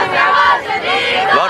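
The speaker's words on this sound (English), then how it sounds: "Big crowds here at the final game" Large crowd at a boys' final basketball game, FDR versus Graded, roaring and shouting in a loud, continuous wash of voices with swells and dips, close and dense throughout.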